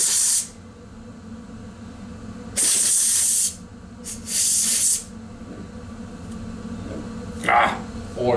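An experimental air engine sprays oil in short hissing bursts, loud and close, separated by quieter running noise, while someone talks briefly.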